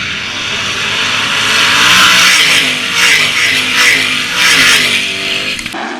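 Several 305 sprint cars race around the dirt oval at Attica Raceway Park during a heat race, their engines roaring loud and steady with swelling passes, no talk.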